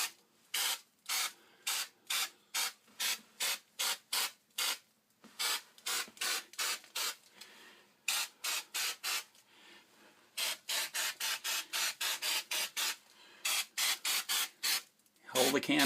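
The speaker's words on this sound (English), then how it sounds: "Hold the can about 6 to 8 inches from the wall. And just little spurts of plaster." Rapid bursts of aerosol wall-texture plaster spray in short, regular spurts, a hissing rhythm repeated many times with brief pauses between groups, close and clear.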